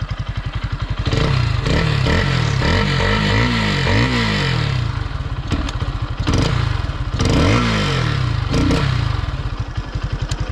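A Lifan SR220 motorcycle engine with 5000 km on it, choked PZ-32 carburettor, runs close by with a loud, fast, throbbing idle, rising into several brief revs before settling back, with no talking.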